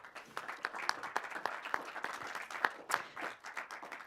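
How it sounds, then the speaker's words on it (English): Applause for a panel at a short-film talk event: quiet, sparse clapping from a small audience, individual claps distinct and irregular rather than a dense roar, heard at a distance. "A big applause for our panel already."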